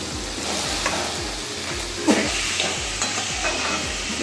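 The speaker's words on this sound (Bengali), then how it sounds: "এটা আমি একটু ভাজা করে নিই, নিয়ে অন্য মশলাগুলো দিতে থাকবো।" Chopped ash gourd fries in a pan, a dense, loud sizzle broken by regular rhythmic stirring strokes, with a few sharper scrapes against the pan.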